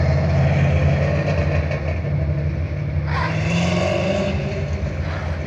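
A Ford Maverick's engine rumbles steadily at idle with a deep, throaty tone and a slight rise partway through, loud and close.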